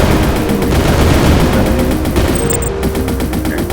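Weapon fire in the Crystal Rush video game blasts as a dense, continuous barrage of rapid shots, loud and close, with bright electronic tones chirping briefly over the steady rattle.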